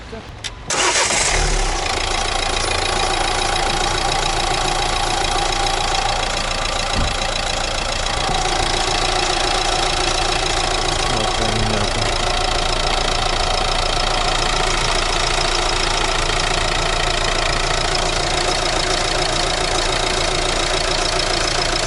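A Renault Megane 3 car engine cranks and catches, then settles into a steady, loud idle that runs on for the rest of the clip.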